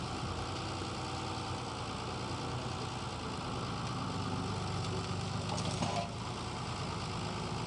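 A tractor engine idles steadily outdoors near a brush burn, a constant low rumble holding at even loudness with no talk over it.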